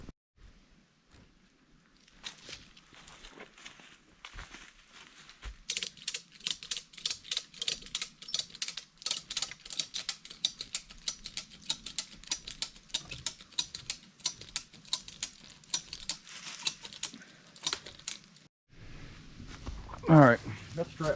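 A ratchet strap clicks rapidly as it is cranked to pull down dead wood, a long fast run of sharp mechanical ticks with pauses between bursts. A voice speaks briefly near the end.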